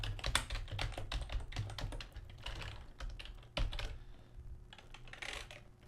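Code being typed on a computer keyboard for a top-down action adventure game, fast bursts of close, crisp key clicks in uneven clusters with brief pauses and a few heavier keystrokes.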